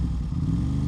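Aprilia RS660 motorcycle fitted with a full exhaust, heard close at idle as a steady, deep, loud engine rumble; only about a second, with no clear rise from a throttle blip.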